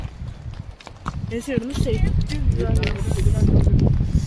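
Horse hooves clip-clop in a steady rhythm on a ride near the Kolsai and Kaindy lakes, with a voice talking over the footfalls.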